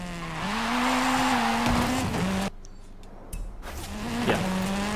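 A Hoonigan car in Forza Horizon 5 drives off-road, its engine drone rising and holding steady with brief tire squeal, cutting out abruptly for about a second before the revving returns, loud and close.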